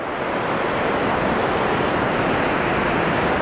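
Ocean surf breaks on a fishing beach, a steady, close wash of foaming water with a dense hiss and no distinct pauses.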